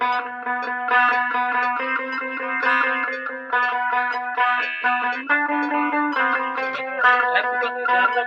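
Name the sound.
electric guitar played with distortion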